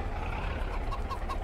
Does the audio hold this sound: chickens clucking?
yes